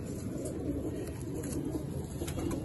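A golden pigeon coos steadily in low, soft murmuring tones, close by and fairly quiet, with no voices over it.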